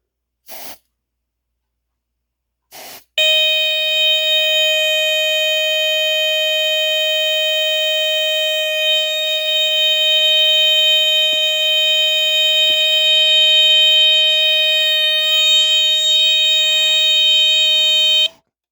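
A Fuller Brush Advance Warning Model 422 smoke detector under test: two short clicks, then a loud, steady, piercing electronic tone that sounds continuously for about fifteen seconds before cutting off.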